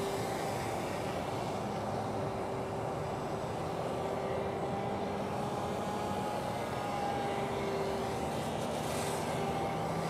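An RC Decathlon model plane flies over snow on floats, its motor a steady, fairly distant drone with faint tonal whine that holds level for the whole stretch.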